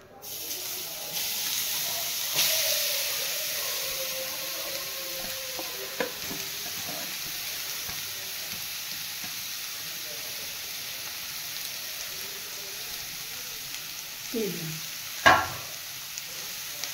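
Beetroot and carrot fry in hot oil with a steady, broad sizzle and hiss throughout, a few brief clinks and scrapes of stirring, and a sharper utensil knock near the end.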